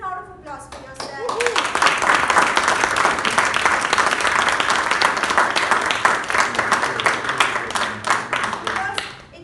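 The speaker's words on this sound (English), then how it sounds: "Give a round of applause for yourself." An audience at a humorous speech contest breaks into loud, sustained applause that swells quickly after a few spoken words and then tapers off near the end, with a voice briefly audible.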